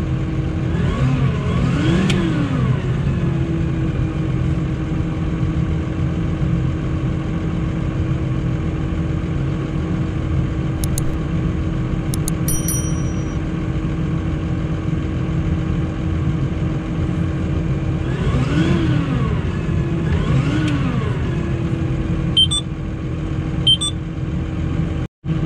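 A Case IH Puma 200 CVX tractor engine idles steadily throughout, rising twice into short revving bursts near the start and again near the end, loud and close.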